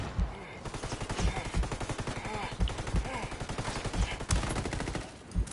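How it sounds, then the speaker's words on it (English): Rapid bursts of automatic gunfire crackle in a Ghost Recon Ghost War match, dense repeated shots with a few louder single cracks, loud and close throughout. "he shot at me"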